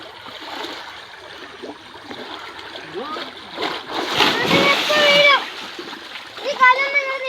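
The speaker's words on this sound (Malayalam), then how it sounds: "ഇവന്മാർ വെള്ളത്തിൻ്റെ ഇത് കയറി കളിക്കുന്നു" Children play and splash in stream water beside a spot used for washing clothes, with irregular splashes and sloshing swelling louder toward the middle and end, and young voices chattering over the water.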